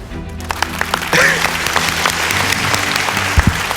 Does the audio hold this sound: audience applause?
yes